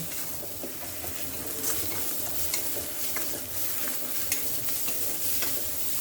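Mutton masala and ground gravy paste sizzle in a pot while a spoon stirs and scrapes at an even pace, producing a steady frying hiss with small knocks and no voices.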